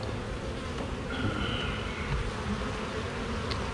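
A dense, steady buzzing of many honey bees from a cutout hums close by, a continuous droning swarm with no voices.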